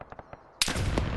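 A single loud, sharp sniper rifle shot in a video game cracks out after a few soft taps, followed by a broad, lingering rumble as it echoes away.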